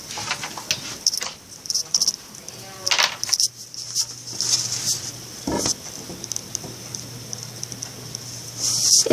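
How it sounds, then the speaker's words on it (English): Heavy rain patters outdoors, an irregular stream of drips and taps with a steady hiss, and a person speaks briefly over it. "It is raining, guys."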